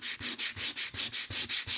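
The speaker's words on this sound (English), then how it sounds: "I'm just going like this because you're sanding them off, and like I said, it's giving it that weathered look." A wooden sign is hand-sanded to give it a weathered, distressed look: close, steady back-and-forth rasping strokes in an even rhythm, about nine passes with brief pauses between them.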